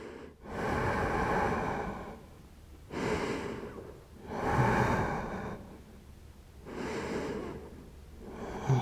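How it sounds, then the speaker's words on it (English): Long, deep breaths during a yoga flow for the hips and lower back, slow inhales and exhales alternating in a steady rhythm, close and fairly soft with no talk. "Long, deep breathing."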